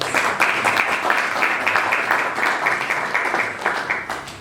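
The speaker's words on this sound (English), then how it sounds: "Let's give them a round of applause." Audience applause at a badminton championship ceremony: steady, moderately loud clapping from a crowd that holds an even level throughout, with no voices over it.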